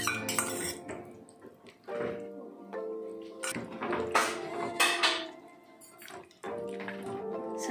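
Four chicken drumsticks being tossed with masala in a bowl: intermittent clinks and scrapes of metal against the bowl with wet squelching, close and fairly quiet.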